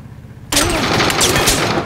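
Sudden burst of automatic gunfire in the video game PUBG, loud and dense, starting abruptly and continuing steadily without talk.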